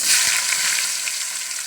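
Chopped onions frying in hot oil in a pan with fenugreek, mustard seeds and cumin, giving a loud, steady, close sizzle that holds for the whole stretch with one soft knock early on.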